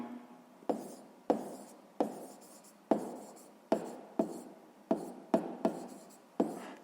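A pen taps and scratches across paper while solving a sixth-grade maths exercise, short separate strokes about once a second, quiet and close, alone without talk.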